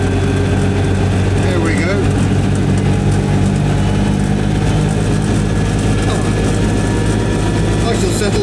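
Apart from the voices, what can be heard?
Skoda Favorit car engine while driving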